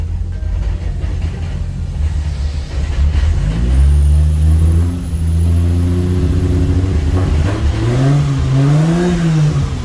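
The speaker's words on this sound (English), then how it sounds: "Don't mind the noise you guys are hearing. That's just clutch chatter" A car engine labors at low revs with a rough, shuddering rumble from clutch chatter, the pitch wavering up and down as it strains, steady and close.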